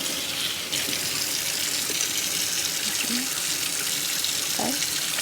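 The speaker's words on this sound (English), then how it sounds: "I'm just going to show you how it lathers up." Tap water running steadily into a sink while a bar of handmade cold process soap is lathered under it, with a continuous close hiss and a few faint splashes and squelches.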